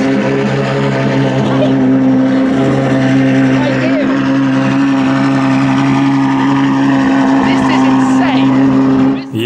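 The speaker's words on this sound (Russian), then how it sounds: "И это все этот выхлоп." Loud, steady V12 exhaust drone from a Novitec-tuned Ferrari 812 N-Largo on cold start, heard outdoors as a continuous deep rumble across the whole stretch, with a person speaking over it.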